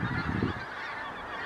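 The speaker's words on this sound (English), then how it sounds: "All the geese migrating out of that there since Armageddon." Migrating geese honk outdoors in spring in Scotland, a short burst of overlapping honks and calls from a flock at moderate distance, fairly faint and without speech.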